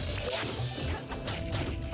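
A Captain Falcon down smash lands in a Super Smash Bros match, a loud smashing impact set within a dense, constant wash of game effects and crowd noise.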